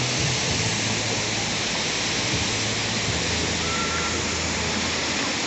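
Continuous loud rushing roar of a river and waterfall at Baturraden, a steady broadband wash of falling and flowing water with no breaks, close and filling the scene.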